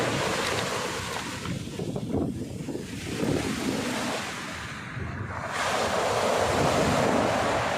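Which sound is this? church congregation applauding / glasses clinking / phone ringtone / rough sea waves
rough sea waves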